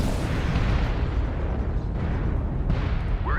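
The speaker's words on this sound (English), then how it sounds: "Airstrike." A video game airstrike: a sustained, loud rumbling blast that fills the whole moment with dense low roar and crackling debris, with no voices over it.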